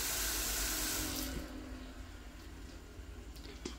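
Running tap water splashes into a sink as taro leaves are washed for a laing dish with coconut milk, loud and steady at first, then dropping to a softer trickle after about a second and a half.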